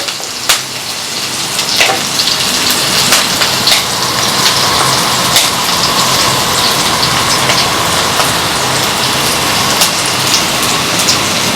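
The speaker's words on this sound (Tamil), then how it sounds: "வெங்காயம் வந்து நல்லா ஒரு 3/4 பதத்துக்கு வதங்குற வரைக்கும் இதை நம்ம வதக்கி விட்டுறலாம்" Onions sauté in a pan, a dense, even sizzle with scattered pops and crackles that holds steady and fairly loud throughout.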